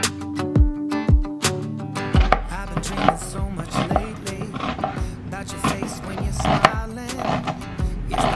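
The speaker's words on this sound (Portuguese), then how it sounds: "Aí eu vou cortar em cubinhos pequenos e..." A knife chops food into small cubes on a cutting board in a home kitchen, with a rapid run of sharp, close knocks at first, then steadier chopping under a busy background.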